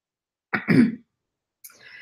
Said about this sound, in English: I know I keep clearing my throat